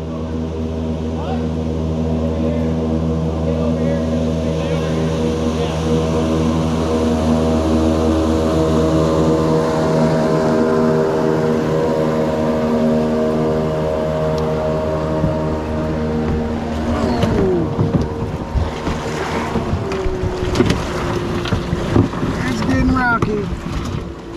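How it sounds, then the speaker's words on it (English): A bass boat's motor drones steadily with a low harmonic hum on a river, then grows rougher and louder as it passes nearby, with wind buffeting the microphone. "We've got a bass boat or a flat bottom coming up through here."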